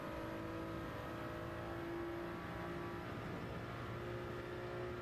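Race car engines droning steadily in a Gran Turismo 7 drag race down the straight at Le Mans, a continuous loud engine whine with sustained tonal harmonics and no talk.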